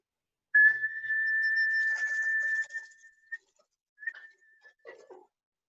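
A person whistles to call a cat: one long steady high whistle held for about two seconds, then a few short softer whistle bursts, otherwise quiet.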